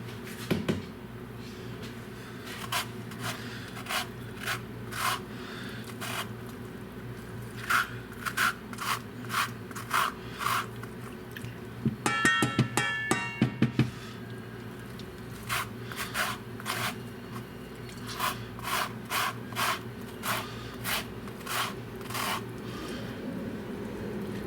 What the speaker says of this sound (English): Gets a little more lemon zest in here.